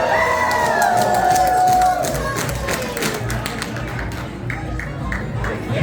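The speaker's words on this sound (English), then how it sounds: "Make some noise for our bar owner, Ashley, for helping us with the microphone." Crowd in a bar at a drag competition show cheering and clapping, loud whoops and shouts at first, then settling into scattered clapping and chatter.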